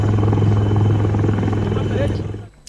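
A rescue helicopter flying over flooded homes during heavy rain in Maharashtra, with a loud steady rotor thump and engine drone that fades out abruptly near the end.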